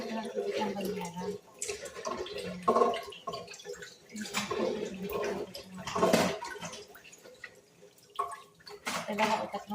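Eggs being washed by hand in a basin of water, with splashing, dripping and sloshing that comes in uneven bursts at close range, and a voice talking now and then over it.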